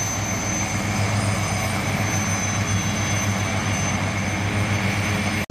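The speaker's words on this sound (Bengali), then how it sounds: "প্রতিটা হেলিকপ্টারের যে পাখা সেটা ঘুরতে আরম্ভ করে দিয়েছে" Indian Army helicopters spin up their rotors for take-off at a Vijay Diwas display on the Maidan ground in Kolkata, a loud, steady engine and rotor roar that fills the whole stretch without voices.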